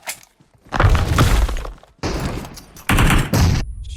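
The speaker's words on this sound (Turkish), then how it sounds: "Bomba molotof attı abi" A molotov cocktail is thrown in the mobile shooter PUBG Mobile. A loud crash and glass-like shattering is followed by further sharp bursts of noise, all close and with short gaps between them.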